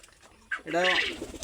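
A pet pigeon gives one short, close coo that rises and then rolls downward, preceded by a faint chirp in a quiet room.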